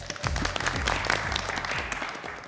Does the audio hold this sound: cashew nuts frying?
no